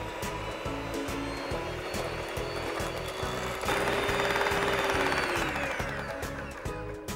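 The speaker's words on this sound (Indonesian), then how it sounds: "kita akan kocok adonannya hingga kaku dan halus" An electric mixer beats cheesecake batter until stiff, a loud, close, continuous motor whir with a pulsing rattle and a strain that deepens midway before easing off.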